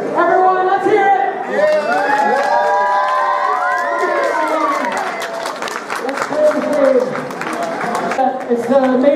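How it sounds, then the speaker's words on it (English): A cosplay convention audience claps, cheers and whoops as contestants leave the stage, a loud, dense crowd roar with shouting voices rising and falling throughout. "We're going to give one last round of applause as the contestants step off the stage"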